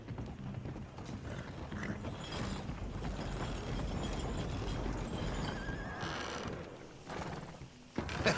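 A horse's hooves clip-clop in the Red Dead Redemption 2 game, mixed with mechanical rattling and a brief whinny, forming a continuous busy layer that dips near the end.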